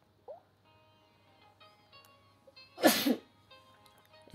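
A single sharp human sneeze bursts out loudly near the middle, set against quiet electronic game music from Beach Buggy Racing 2 playing softly underneath.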